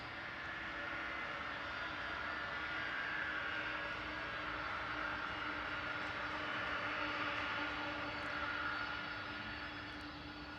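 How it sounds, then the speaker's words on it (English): Embraer E170 jet departing from Schiphol airport in Amsterdam: a steady, distant, fairly faint jet engine roar holding for several seconds, swelling slightly and easing off, with no talk. "Well, Hop with the E170 is departing."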